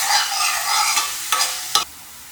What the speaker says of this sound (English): So in a pan with a tablespoon of coconut oil, a teaspoon of cumin seeds, 1 large onion which is finely chopped that I sauteed first.